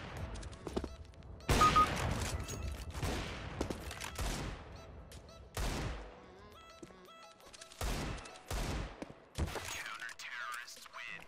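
Gunshots in CS:GO ring out as several sharp, loud bursts spaced irregularly, some quick volleys and some single cracks, mixed with stretches of quieter talk.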